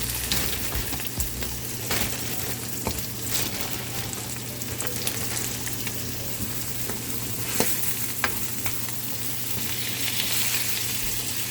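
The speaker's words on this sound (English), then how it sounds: "Fry this for a couple more minutes." Tomatoes fry in a pan for saltfish, giving a steady, close sizzle with scattered pops and occasional stirring clicks throughout.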